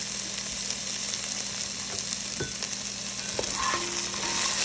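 Potatoes fry in a pan for a frittata, giving a steady, close sizzle with occasional stirring clinks and scrapes, and no voices over it.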